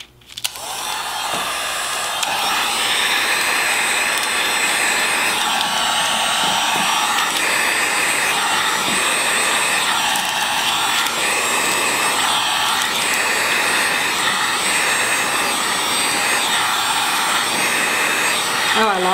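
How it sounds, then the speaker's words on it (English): A Wagner heat gun blows with a loud, steady, broadband roar that holds constant for the whole stretch, with no talk over it. "this is a Wagner heat gun"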